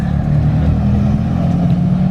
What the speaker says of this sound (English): There's the 180 pulling out.